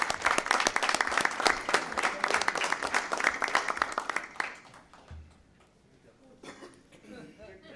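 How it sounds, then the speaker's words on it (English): A school board meeting audience gives a loud round of applause for first responders, dense clapping sustained for about four seconds before it drops away to a quieter room with faint movement. "One more round of applause to our first responders,"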